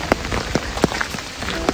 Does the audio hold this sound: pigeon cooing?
no